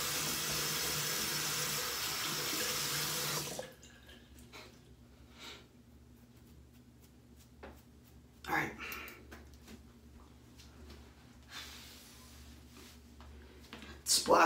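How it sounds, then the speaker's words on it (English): Tap water runs steadily into a bathroom sink for a few seconds as trimmed goatee hair is rinsed down the drain, then cuts off, leaving quiet room sound with occasional small splashes and sniffs. "Rinse the hair down the drain."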